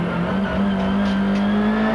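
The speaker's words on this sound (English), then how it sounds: "See the sequential gearbox on these touring cars, slamming it down the box, braking hard for the corner." A 1995 French Supertouring touring car with a sequential gearbox brakes hard for a corner at Paul Ricard, its engine a loud, steady, buzzing drone throughout, with no talk over it.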